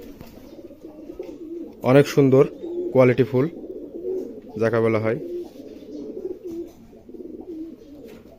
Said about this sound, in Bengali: এটা সবুজ গিরিবাজ কবুতর না?